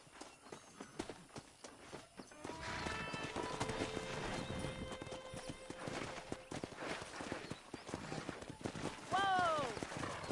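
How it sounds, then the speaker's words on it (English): Horse hooves clip-clopping through a Red Dead Redemption 2 wrangling scene, a steady run of hoofbeats with a neigh near the end, set among game ambience and background voices. "let's see if we can't wrangle some horses."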